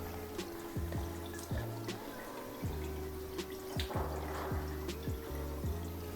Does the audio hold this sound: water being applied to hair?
yes